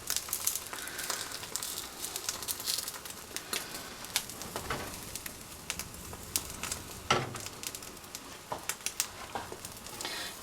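Omelette with goat's cheese in a non-stick pan, a soft, continuous frying hiss with scattered light scrapes of a utensil, fairly faint and with no one speaking.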